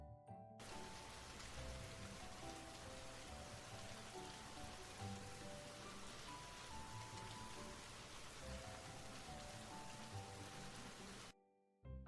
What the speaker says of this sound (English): This is rain. Rain is water that falls from clouds in the sky.